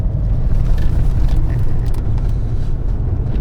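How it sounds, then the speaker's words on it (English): A vehicle drives through pitch-black woods at night on a slightly corrugated track, a loud steady low engine and road rumble heard from inside, continuous with faint rattles. "driving in the pitch black through woods at 8 p.m. at night"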